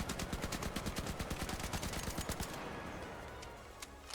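Tempest weapon at level 1 firing in the Arc Raiders shooter game: a rapid, even burst of around twenty loud automatic shots lasting two and a half seconds, then a quieter stretch with a few faint clicks.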